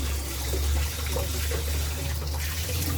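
Water running and splashing steadily as boiled pork is rinsed clean at a rural home kitchen sink, a continuous close, fairly loud gushing stream with small splashes and no talking.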